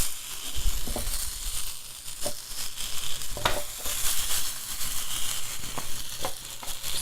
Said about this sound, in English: we're going to place the potato slices